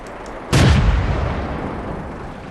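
A single loud tank gun blast in World of Tanks fired from a light tank: a sharp boom with a long, fading rumble trailing off, no voices.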